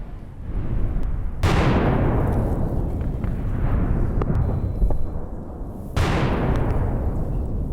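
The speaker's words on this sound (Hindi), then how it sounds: "लेबनान बॉर्डर पर भीषण बमबारी हुई है" Heavy bombardment explosions on the Lebanon border: two sharp, loud blasts, one near the start and one near the end, each followed by a long rumbling decay over a constant low roar, with no talk.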